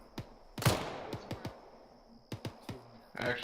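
Gunfire during a military field training exercise, a scattered series of sharp, short distant reports with one louder crack, spaced irregularly over quiet background.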